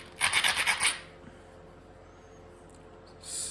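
A rasp scrapes in a quick series of about six rough strokes as it planes down a preform. The strokes come in one short, close burst, followed by quiet.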